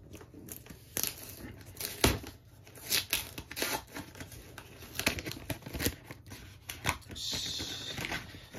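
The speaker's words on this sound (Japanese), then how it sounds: "もう包装紙はビリビリになっちゃうやつやね" Gift wrapping paper being torn off a boxed souvenir of browned-butter royal waffle cookies, a run of crisp ripping and crinkling bursts, close and fairly loud, with papery rustles between them.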